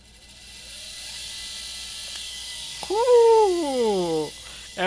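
A Razor Pocket Mod electric scooter converted to a 36V 800W motor whirs up after a quiet start, a rising, wavering electric whine that climbs and falls in pitch for about a second and a half, close and fairly loud.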